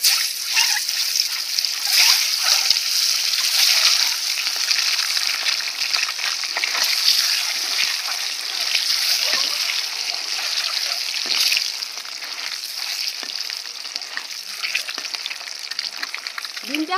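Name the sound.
egg frying in a hot wok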